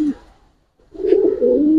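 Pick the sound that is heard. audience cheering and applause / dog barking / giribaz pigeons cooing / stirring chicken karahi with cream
giribaz pigeons cooing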